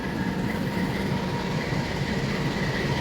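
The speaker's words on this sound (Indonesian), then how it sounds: "inilah perjalanan perdana kereta api Anggrek dari Jakarta Gambir ke Surabaya" The Anggrek passenger train runs from Jakarta Gambir toward Surabaya Pasar Turi, its steady rumbling roll heard from on board, continuous and fairly quiet with faint wheel clatter and no talk.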